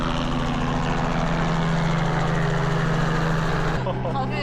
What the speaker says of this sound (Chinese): 来了个直升机。